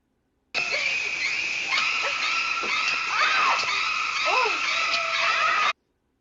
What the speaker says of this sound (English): Notice how the repetitive screeches on the violins mimic the stabbing sounds of the knife